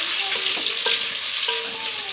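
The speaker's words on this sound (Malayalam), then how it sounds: "പിന്നെ പച്ചമുളക്, സവാള എന്നിവ ചേർത്ത് നമുക്കൊന്ന് വഴറ്റിയെടുക്കാം" Onion and green chilli with spices sautéing in a pan for Kerala chicken biryani, a bright continuous sizzle broken by several scraping stirs of a spoon.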